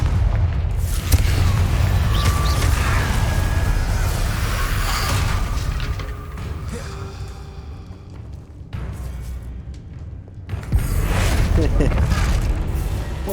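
Booming fire-spell blasts from the Confringo spell in Hogwarts Legacy, heavy thuds and rumbling explosions against game noise, with someone talking over parts of it.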